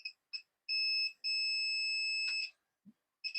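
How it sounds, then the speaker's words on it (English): Multimeter continuity beeper sounding while probing a capacitor on a laptop's main power rail: short bleeps, then two long sustained tones and a few more brief beeps, clear and close, with no talk. "you see it's beeping both ways"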